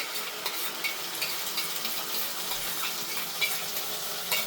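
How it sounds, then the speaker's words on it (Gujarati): Tomato purée goes into a pan of frying peas and onion, and a soft, steady sizzle follows with faint stirring scrapes. It is close and moderately quiet, and no one talks. "આપણે ચડી ગયું છે વટાણા અને ડુંગળીની હવે આપણે ટમેટાની પ્યુરી નાખી દઈશું અંદર."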